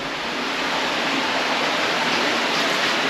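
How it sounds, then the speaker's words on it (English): Water pours out of a shaft inside an old underground mine, making a steady, close rushing and splashing that continues unbroken throughout with no voices. "we've got another shaft here where the water's coming out"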